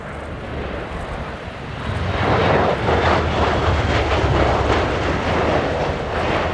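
A USAF CV-22B Osprey tilt-rotor flies a display at an air show, its rotors beating in a loud, throbbing roar that swells and holds at a distance.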